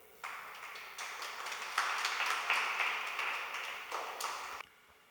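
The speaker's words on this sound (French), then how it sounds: "Je vous demande de l'applaudir, s'il vous plaît." An audience at a stage event on youth in politics bursts into applause as a speaker comes on, a dense, fairly faint wash of clapping that holds for about four seconds before cutting off.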